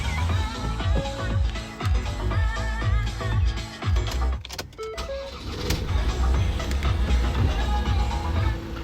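A 2018 Ford Transit 2.2 TDCI 460 diesel van cranks briefly and catches, settling into a steady, close diesel idle with faint clicks and rattles around the start.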